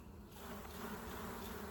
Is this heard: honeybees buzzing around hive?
yes